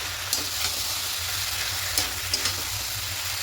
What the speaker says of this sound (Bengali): এখানে ভেজে রাখা সোয়াবিন আলুটা দিয়ে দেবো সব কিছু খুব ভালো করে একটু কষিয়ে দেবো